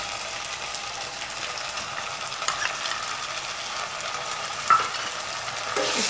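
Onion paste goes into a pan of lightly browned frying onions for chicken curry and is stirred in, giving a steady close sizzle with soft scraping strokes and a brief louder clatter near the end.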